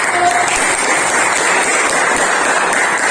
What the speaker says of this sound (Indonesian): Kita kasih applause untuk kelompok 1.